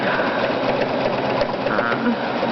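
Sewing machine top stitching binding with a stitch in the ditch foot at a 3.0 stitch length, a fast steady mechanical whirring hum running continuously, close and fairly loud.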